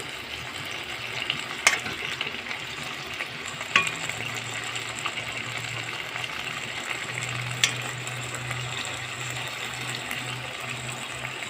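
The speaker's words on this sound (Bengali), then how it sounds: "দেখেছো দেখো ভেন্ডি ভালো করে নেড়েছি, এত সুন্দর করে নাড়ছি" Okra frying in a pan while being stirred, a steady close crackling sizzle with occasional sharp clicks of the spoon against the pan and no voices.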